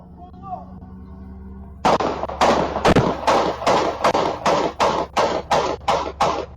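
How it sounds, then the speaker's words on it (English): At night, a rapid string of about a dozen loud gunshots rings out after a quiet moment, sharp cracks evenly spaced and echoing off nearby houses, with no talk. "12 gunshots rang out in the still night."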